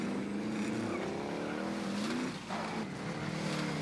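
A truck drives nearby in Call of Duty Warzone, with a steady engine drone that shifts in pitch as it moves. The sound is continuous and close, with a brief dip partway through.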